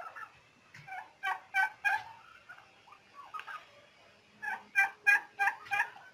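Turkeys gobble on a turkey farm in Rajshahi, with two loud bursts of repeated rapid gobbles near the start and end and softer calls between them.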